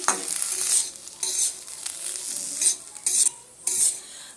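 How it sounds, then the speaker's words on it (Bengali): Semolina being stirred and mixed with chopped green chili and coriander leaves in a pan, a series of scraping, rustling strokes with brief louder sweeps, close and clear with no talking. "এবার এই সুজির সঙ্গে ভালো করে এইভাবে করে মিশিয়ে দিচ্ছি"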